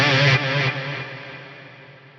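Electric guitar through a Fractal FM9 with a big ambient reverb and delay, a struck note fading into a lush washed-out tail that lingers and decays over a couple of seconds, no voices.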